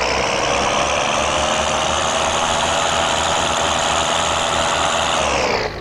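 A tractor engine runs hard and steadily in Farming Simulator 2013 while a tire spins in place, giving a loud, constant droning roar that stays level and then cuts off abruptly near the end.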